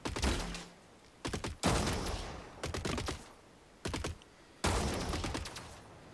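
Machine gun fire from bots in the game Gladiabots comes in several rapid bursts of crisp rattling shots separated by short gaps, loud and close, with no talking.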